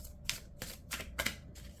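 Oracle cards being handled, shuffled and drawn from a deck: several quick papery riffling bursts, close and fairly soft, with short pauses between them.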